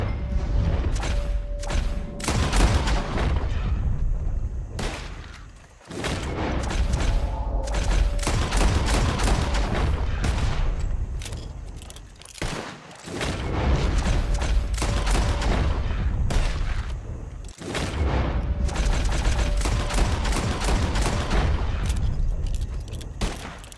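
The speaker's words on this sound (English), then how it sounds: "As soon as you see them, Start shooting." Rapid volleys of gunfire from a Red Dead Redemption 2 shootout, loud, dense fusillades with booming shots, broken by a few brief lulls across the stretch.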